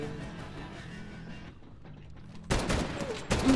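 Gunfire at a barrel in the Medal of Honor video game erupts suddenly after quieter game ambience, a loud dense burst of shots lasting about a second, dropping off briefly then resuming.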